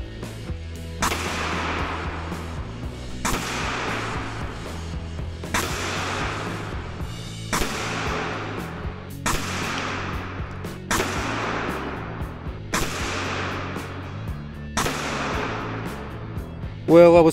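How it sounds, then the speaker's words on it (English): A 9mm Leshiy 2 air rifle firing 77 grain Hades pellets, eight loud sharp shots at steady intervals of about two seconds, each with a decaying crack. "I went on and shot another 8 round group with the Hades"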